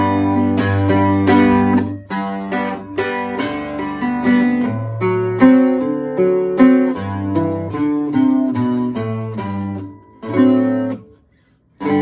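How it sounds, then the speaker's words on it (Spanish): A bajo sexto fitted with new strings is played solo, bright doubled-string chords and bass runs ringing out close and loud in a lively rhythm for about twelve seconds before stopping abruptly. "Ese es el sonido de este bajo."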